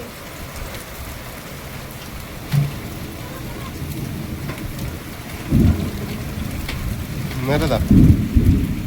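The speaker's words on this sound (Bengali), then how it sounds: "দেখতে দেখতে বৃষ্টি শুরু হয়ে গেছে" Rain falling steadily during a storm outdoors, a constant wash of patter with a few louder bursts, while people call out and talk over it.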